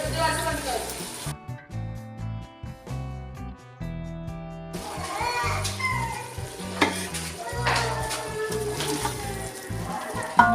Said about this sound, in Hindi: और ये मसाला अब अच्छे से भून जाएगी दही के अंदर